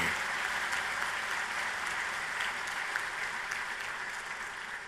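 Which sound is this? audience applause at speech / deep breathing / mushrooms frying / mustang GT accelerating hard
audience applause at speech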